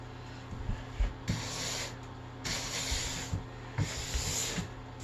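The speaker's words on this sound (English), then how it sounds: "I tend to go right from the brass brush to the polishing brush." A brass brush and then a polishing brush scrub hot wax off a Nordic ski base in long, close strokes, each pass a loud hissing rasp with short pauses between them.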